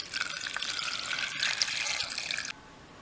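Water pours into a pot over spices and two orange peels for hot apple cider: a continuous splashing hiss that cuts off abruptly shortly before the end.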